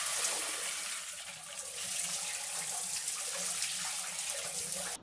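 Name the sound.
tub being filled with clean tap water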